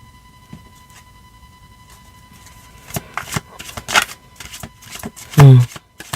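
A deck of cards being handled and shuffled up close: scattered soft taps and slides, then a loud, quick riffle burst near the end, with no talking.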